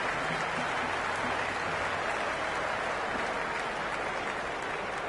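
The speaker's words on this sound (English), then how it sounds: "There's a buzz, a real buzz coming from the stands." A stadium crowd at a cricket match in Cricket 26 roars and cheers in a continuous dense wash of noise that holds steady throughout, with no clear breaks.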